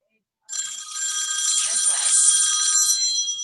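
A telephone rings loudly and steadily with a bright electronic tone, starting suddenly and continuing without a break.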